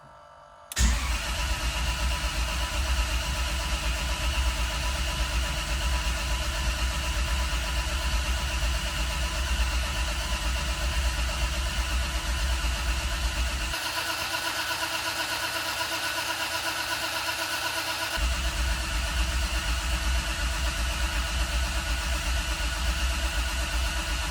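A rebuilt Toyota 2JZ engine in a car cranks briefly on the starter and fires up, then settles into a loud, steady idle close by, with a short change in tone partway through and no talking.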